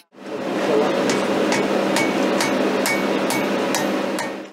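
A blacksmith hammers heated metal with evenly spaced ringing blows, about eight strikes over a steady background hum.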